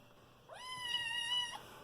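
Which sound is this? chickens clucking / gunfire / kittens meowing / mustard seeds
kittens meowing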